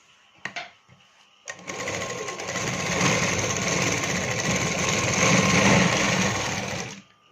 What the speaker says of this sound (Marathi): तर आता मी मशीन टीप टाकत आहे.